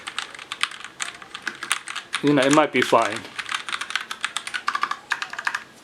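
Rapid typing on a Razer BlackWidow Lite TKL tenkeyless mechanical keyboard gives dense, close keystroke clicks throughout, with a short stretch of speech partly over them.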